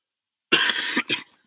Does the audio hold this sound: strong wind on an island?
no